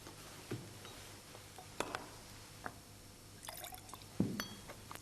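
Cyclohexane goes into bromine water in a glass test tube: faint drips and small glassy liquid taps, a few scattered drops and a brief trickle over a quiet background, with no talk.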